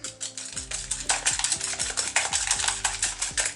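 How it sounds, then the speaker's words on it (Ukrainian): Eggs and sugar whisked by hand in a bowl for cookie batter, a rapid, continuous clinking and scraping of the whisk against the bowl, close and steady with no talk. "ми збиваємо їх тільки до легеньких верхніх таких ем, невеличких бульбашок, такої пінної шапочки"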